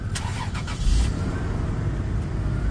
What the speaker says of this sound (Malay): Saya start enjin.